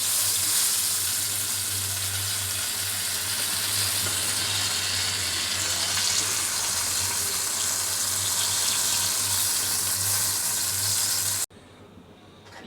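Slices of eggplant fry in oil in a pan, giving a dense, even sizzle that holds steady and close for most of the stretch before cutting off abruptly near the end.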